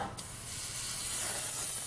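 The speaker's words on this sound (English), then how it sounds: "I want to sort of just go ahead and give an air spray to make sure there's no dust that's collected" An airbrush blows a short burst of air to clear dust from a 1965 Coronet body before painting, a continuous close hiss with a brief pause at the start.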